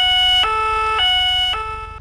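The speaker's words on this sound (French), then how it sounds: "police nationale ou encore gendarmerie sirène" French gendarmerie two-tone police siren in the BeamNG.drive driving game, loud and close, alternating between high and low pitches about every half second across three changes before beginning to fade.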